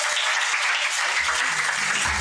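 Audience applause at a math tournament, rewarding a correct answer: a steady, dense wash of many hands clapping together, moderately loud and sustained throughout without any talking.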